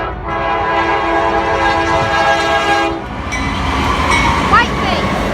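A Norfolk Southern freight oil train rolls past close by with a rumbling, clattering roar and a sustained horn blast, which cuts off midway while the wagons keep clacking along.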